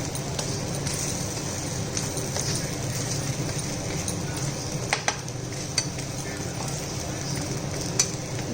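Rava dosa studded with cashews fries on a pan with a steady, moderately loud sizzle and a few faint utensil clicks.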